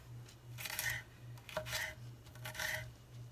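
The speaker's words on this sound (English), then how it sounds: "I'm going to cut it as finely as I can" Knife chopping food finely on a board for jelly, three rasping cutting strokes at a steady rhythm, quiet and close, over a low hum.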